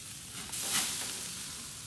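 Grilled skirt steak sizzling steadily over the heat, a dense close hiss that swells briefly partway through as the meat is moved, with no voices.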